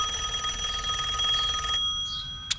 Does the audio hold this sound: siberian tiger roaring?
no